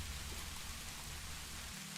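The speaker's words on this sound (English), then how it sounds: "The rain on the tin roof always puts me at ease." Steady rain drums on a tin roof, a soft, even hiss of drops with no voices.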